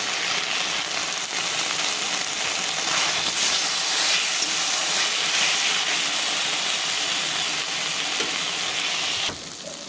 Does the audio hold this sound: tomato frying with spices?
yes